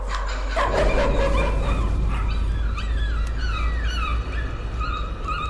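A dog whimpers in the horror video game Layers of Fear with a run of high, wavering whines and cries. A loud, low rumbling ambience sits underneath the whole time.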